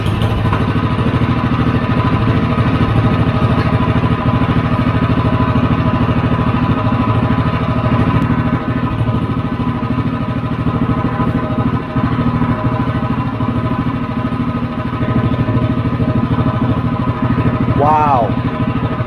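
A Predator 212 small engine idling with a disc muffler, a steady, close, low mechanical chug that holds throughout, with a voice talking over it.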